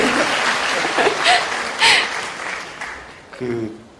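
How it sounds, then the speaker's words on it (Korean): An audience at a book concert claps in a moderate wash of applause, while voices and brief laughter break through over the clapping. "박수 쳐주셔야죠."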